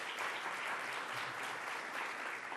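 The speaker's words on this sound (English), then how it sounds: "So let's give him a round of applause." An audience at a New York State tuition assistance funding announcement applauds student Marco Iorio, a dense, even burst of clapping from a crowd filling the room for a couple of seconds.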